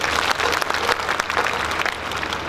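Sustained audience applause at a Hindi comic poetry gathering (hasya kavi sammelan) in Behror, dense steady clapping from a large crowd filling the whole moment.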